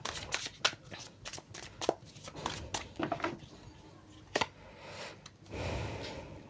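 A deck of tarot cards is shuffled up close, with rapid riffling flutters and sharp slaps in quick irregular bursts, followed by a softer sustained rustle, with no talking.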